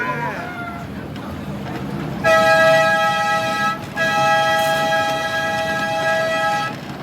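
Horn of a mini tourist train at Khao Kho, Thailand, sounding two long, steady blasts separated by a brief gap, loud and close over open-air background murmur.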